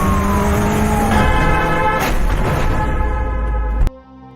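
A car chase in an action film with police and a task force in pursuit: roaring engines, whining high-pitched revs and skidding bursts, loud and busy, ending in a sharp hit and sudden quiet.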